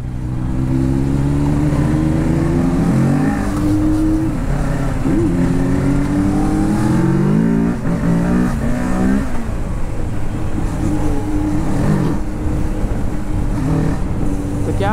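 Kawasaki Ninja 650 and Z900 motorcycles revving on a street, loud close engine with repeated rising and falling rev sweeps and gear changes, throttle blips stacking across the whole stretch.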